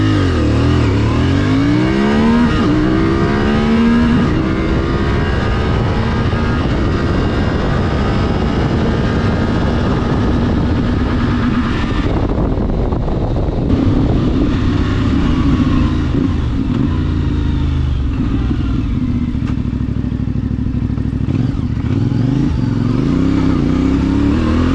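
A CFmoto 450MT motorcycle accelerates hard, its engine note climbing steadily through the gears, loud and close with continuous wind rush and no talking.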